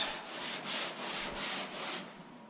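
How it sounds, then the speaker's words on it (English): A sanding block with 180-grit sandpaper works over thick primer on a car body panel. Even, rhythmic strokes give a soft, close, papery rasp. "We're going to block this down until we've got her nice and flat."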